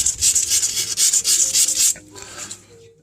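Rapid back-and-forth scratching of 220 grit sandpaper over Kilz primer on a kitchen cabinet, a rhythmic close rasp for two seconds before stopping, followed by faint handling noises.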